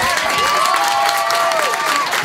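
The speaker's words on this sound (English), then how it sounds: "Give her a round of applause." Backstage audience applauding and cheering for a singer, a loud, steady wash of clapping with crowd noise and some voices mixed in, sustained for a couple of seconds.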